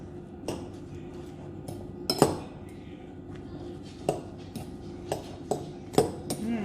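A spoon clinks and scrapes against a bowl while an egg-and-potato hash brown mixture is stirred, giving irregular sharp taps over a soft, close scraping bed.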